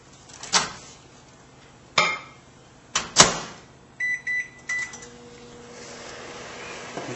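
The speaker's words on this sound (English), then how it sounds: "so I'm going to soften that in the microwave." Kitchen microwave oven softening a third of a cup of butter for homemade dinner rolls: several sharp clicks and thumps of the door and buttons, a trio of electronic beeps, then the low steady hum of the oven running.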